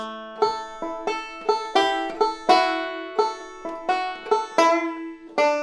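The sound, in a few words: banjo playing tab passage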